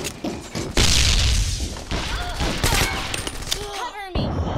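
Frag grenade thrown and going off in a video game amid a firefight: dense gunfire and bursts, a heavy blast partway through, and crackling debris, all loud and close over chaotic game audio.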